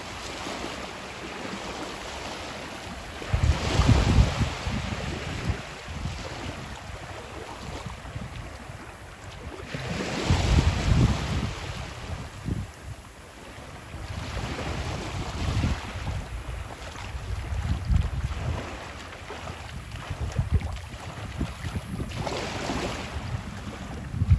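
Waves wash in and out at Tigertail Beach, Florida, with gusty wind buffeting the microphone, surges swelling every few seconds over a constant breezy hiss, no talking.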